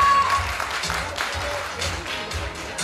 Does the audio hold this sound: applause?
yes